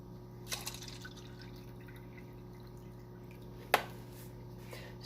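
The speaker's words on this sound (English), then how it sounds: "I'm going to pour some more water in here." Water being poured into a small cup while sprouts are planted gives a faint, quiet trickle with a few soft drips and one sharper splash near the end.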